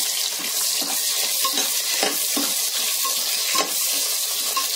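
Onions frying in a pan for tomato bath, following cloves, with a steady close sizzle and occasional stirring scrapes running continuously and alone.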